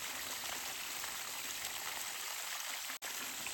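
Water gushes steadily from a 39ft hand-dug well, a continuous close rushing and splashing with one brief dropout.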